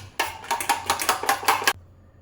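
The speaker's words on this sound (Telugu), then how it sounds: "వీటన్నిటిని మళ్ళీ మంచిగా కలిసిపోయే విధంగా మనం వీటిని మిక్స్ చేసుకోవాలి" Chili powder and turmeric stirred into a batter in a bowl, a quick run of rhythmic clinks and scrapes from a utensil against the dish, close and fairly loud, stopping abruptly.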